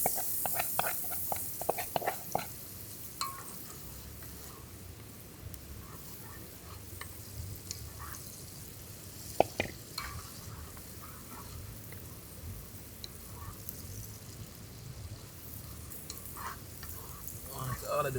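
Minced garlic sizzles in melted butter at an outdoor riverside cookout, a steady soft frying hiss with occasional stirring clicks and scrapes, close but fairly quiet with no talking.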